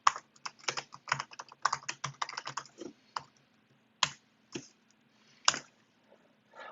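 Someone types on a computer keyboard while writing a database query, with quick bursts of crisp key clicks followed by a few slower, isolated taps and short pauses, close and clear with no talking.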